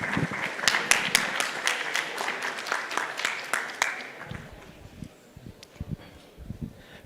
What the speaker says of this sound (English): So warm applause for Szymon.